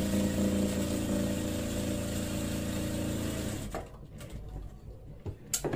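Sewing machine stitching a cloth sleeve, a loud steady motor hum and needle rattle running for several seconds before stopping abruptly, leaving a few faint clicks and handling noises.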